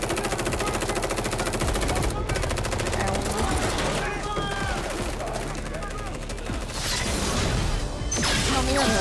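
Gunfire in an urban firefight scene: dense bursts of rapid shots and mechanical clatter under a loud, busy mix with shouting voices throughout.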